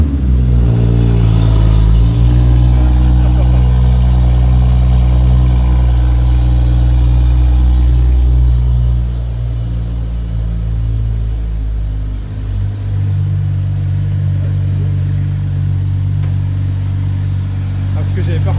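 BMW M2 engine idling loud and near with a deep steady rumble, swelling in revs early on and then settling to a lower, rough idle; no speech over it.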